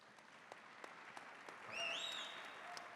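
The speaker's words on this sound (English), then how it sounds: "big round of applause for that" Audience applause for panel members on stage at a discussion of Bitcoin, stablecoins and dollar dominance: faint, distant crowd clapping with a few sharper claps, a brief whistle-like tone rising midway.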